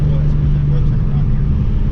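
A tuned BMW car engine hums steadily from inside the cabin while driving, a low, even drone with a faint higher whine riding over it, continuous for the whole stretch.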